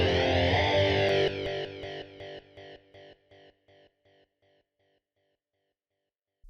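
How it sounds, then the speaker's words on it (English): Strummed electric guitar chords ring out, then repeat as rhythmic delay echoes that gradually fade into silence, with a reverberant tail. "add a delay and reverb to the rhythm guitar that fades out over"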